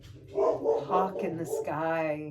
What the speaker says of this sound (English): That's my dog Molly.